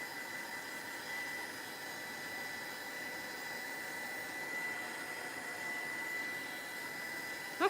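A dryer blows hot air over fresh paint on an artwork with a steady, airy whirring drone that runs unbroken and fairly quiet, ending with a brief knock.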